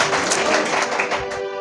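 Loud, crowded clapping from a worship congregation at a Telugu church service, a dense roar of hands that thins and fades toward the end.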